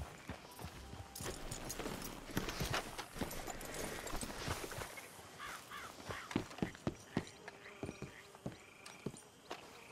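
Horse hooves clip-clopping at a walking pace in the video game Red Dead Redemption 2, sharp and close, with crow caws and faint ambient noise around them.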